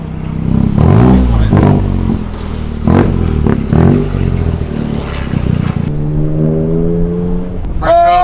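A car engine on a dyno revs hard in repeated pulls, rising and falling whines with loud mechanical roar, then a long climbing sweep up through the gears, close and loud.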